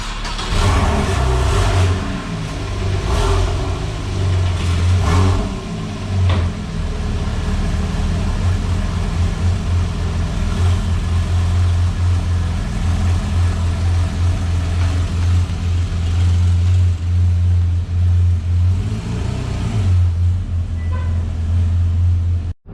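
A Porsche 991 engine hums steadily with a deep low drone as the car is driven outdoors, holding a fairly constant loud level throughout with slight swells.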